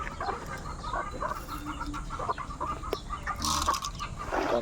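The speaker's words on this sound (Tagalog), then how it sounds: "Dami niyang mga manok, guys" A crowd of hungry chickens clucks steadily at close range, with overlapping calls and a few scuffling sounds, and no one talking.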